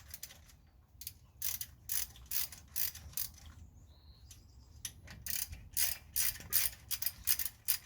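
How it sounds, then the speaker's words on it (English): A 3/8 ratchet clicks in quick rhythmic bursts while removing the front brake caliper bolts on a 2005 Cadillac Escalade, with short pauses between strokes. It is close and moderately loud, with no talk. "So we'll go ahead and remove those. All right, so we are removing the caliper bolts."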